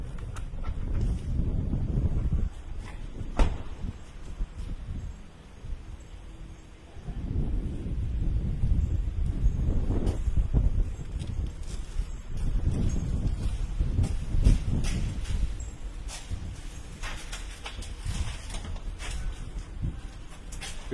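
Gusty wind blows outdoors, buffeting the microphone in loud rumbling surges that rise and fall throughout, with a few faint knocks and no talking.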